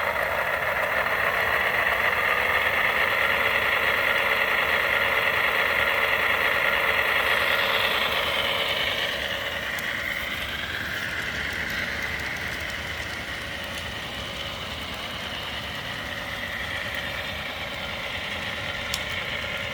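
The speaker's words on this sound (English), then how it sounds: "You can hear the compressors as it sits and idles." HO scale Broadway Limited AC6000 model locomotive in CP Rail military livery idling with compressor sounds, a steady mid-pitched diesel rumble with hissing air that holds loud, then eases slightly and continues alone.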